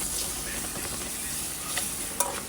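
Tomatoes sautéing with dried Maldive fish, turmeric and oil in a pan, a soft continuous sizzle with a few light scrapes of a utensil and a small clink near the end.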